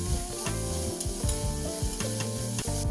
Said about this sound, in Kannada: ಈರುಳ್ಳಿ ಬಾಡಿದ ನಂತರ ಅದಕ್ಕೆ ಟೊಮ್ಯಾಟೊನು ಹಾಕಿ ಅದನ್ನು ಕೂಡ ಚೆನ್ನಾಗಿ ಫ್ರೈ ಮಾಡ್ಕೋಬೇಕು